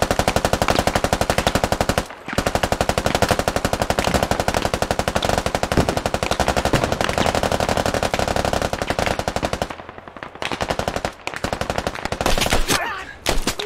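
Sustained, loud automatic gunfire in a close-quarters firefight in the video game CQB-1, with British Army troops against Russian forces, as a rapid unbroken stream of shots with brief pauses and a short final burst.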